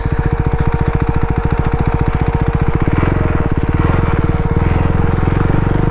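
A KTM Duke 390 motorcycle engine thrums loudly and close while riding, with a fast, even pulse that deepens and roughens partway through as the revs change.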